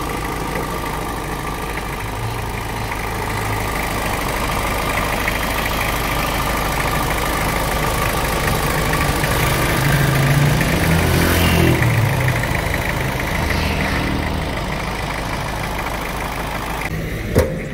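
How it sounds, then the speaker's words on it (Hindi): A 2008 Toyota Corolla 2D engine idles quietly and steadily throughout, a low continuous hum with slight swells in the middle and no talking. "इंजन की आवाज़ सुन सकते हैं आप"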